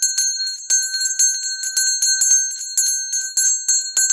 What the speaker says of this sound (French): il va vous falloir utiliser votre cloche et vous l'agitez